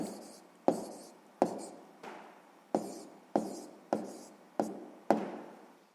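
Numbers are written by hand in a quiet room: eight sharp, evenly spaced strokes land about every 0.6 seconds, each tap followed by a short scratching drag, close and soft.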